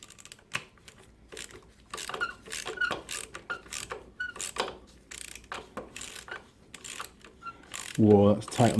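A wrench loosens a tight bolt on a 2006 KTM 640 LC4 engine during an oil and filter change. Close, rapid ratcheting clicks come in uneven bursts, with a short voice near the end.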